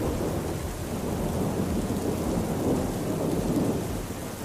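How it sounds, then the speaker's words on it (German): Heavy rain falls steadily and loudly on parched African ground, a dense continuous roar with low rumbles of thunder underneath, constant in level throughout. "Kein sanfter Regen wie ein Flüstern, sondern der Regen des Lebens, schwer, entschlossen und unerbittlich."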